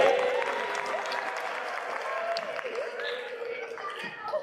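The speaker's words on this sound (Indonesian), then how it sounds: "Oke, tepuk tangan." Audience clapping during an Arabic sign-language Quran training session, a steady mid-level patter of many hands lasting throughout, with voices murmuring underneath.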